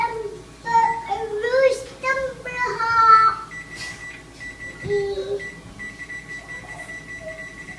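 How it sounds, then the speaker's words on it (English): A kitchen oven timer is being set while bacon cooks in the oven. It gives short electronic beeps followed by a sustained tone, mixed with a voice talking nearby. "So we're going to set the timer here."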